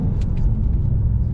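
A stock-exhaust 700 bhp Mercedes E63 AMG in Sport Plus mode gives off a low, steady engine and exhaust rumble, close by and moderately loud, with no clear revs.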